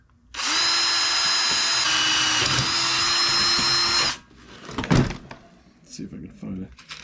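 Power drill boring a rivet hole through a Jeep Wrangler tailgate table, a loud steady whine running for about four seconds before stopping, followed by scattered handling clatter.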